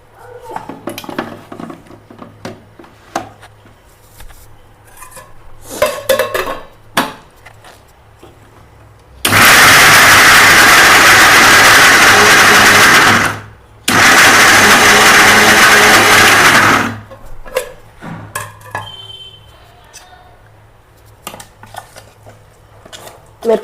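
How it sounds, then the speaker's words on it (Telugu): A kitchen mixer grinder blends soaked tamarind with fruit pulp for a Budamkaya pickle, two loud, steady whirring bursts of several seconds each with a short pause between, set among quieter kitchen clatter. "ఇప్పుడు మిక్సీ పడదాం ఇక"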